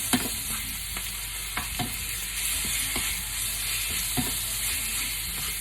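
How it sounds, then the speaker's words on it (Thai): Holy basil and kaffir lime leaves are stir-fried in a pan, with a steady close sizzle and the scrape and clack of a spatula stirring every second or so, and no one talking. "ลองผัดกะเพราใส่ใบบักขูดน้ำเด้อ"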